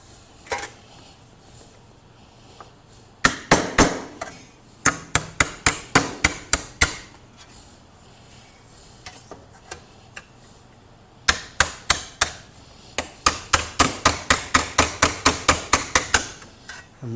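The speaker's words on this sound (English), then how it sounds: "now I'm going to beat it over" Hammer blows beating a sheet metal inner fender patch panel over, in two rapid bursts of sharp metallic strikes, about a dozen quick hits each, close and loud with a quiet pause between.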